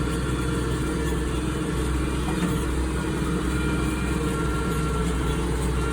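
A 1586 tractor engine runs steadily and loud throughout, a constant low rumble with no breaks and no talk over it.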